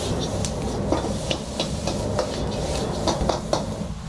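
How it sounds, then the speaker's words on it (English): Vegetables frying in oil in a hot wok, a steady loud sizzle and roar with rhythmic tossing and scraping strokes on top, close up. "Heat up your wok again. Oil. Vegetables in. Fry it."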